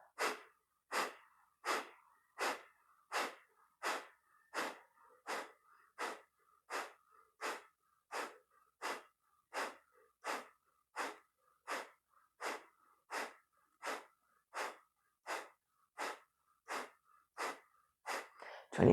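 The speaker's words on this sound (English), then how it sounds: "breath of fire." Breath of fire in a guided yoga class, about two dozen rapid, evenly spaced forceful nasal exhalations pumped from the navel, close and steady in rhythm, with no talk over them.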